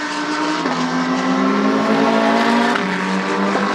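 GT race cars, including an Audi and a Ferrari, run at Shanghai in a 2019 Blancpain GT World Challenge Asia race, giving a loud, steady engine howl whose pitch dips and climbs through gear changes.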